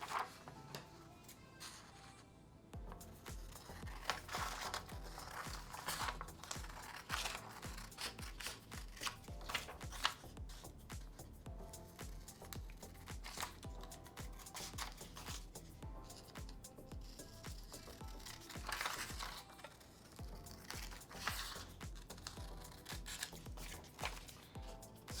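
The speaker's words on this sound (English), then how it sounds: "So you're going to cut around the rectangle all the way around the black box." Scissors snip steadily through paper, cutting out a rectangle around a printed black box for a homemade zoetrope, a continuous run of close, crisp cuts and rustles with no speech.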